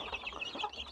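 Several young chicks being weighed on a native village chicken farm, with soft overlapping clucks and cheeping calls that continue close by for a brief moment.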